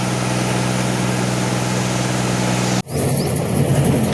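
A heavy tractor engine runs steadily with a low, droning hum, briefly cutting out before the rumble resumes at a similar level.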